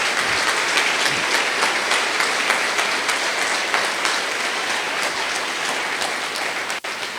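A congregation at a Saturday church service bursts into loud, dense applause, a sustained wash of many hands clapping for several seconds without a break.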